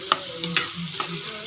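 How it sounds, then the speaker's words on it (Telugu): Onions frying in a pan on a stove for a ladies finger and fish dish, a steady close sizzle broken by a few sharp scrapes and stirring knocks, with no talking. "ముందుగా స్టవ్ వెలిగించుకొని ఉల్లిపాయలు వేసుకోవాలండి."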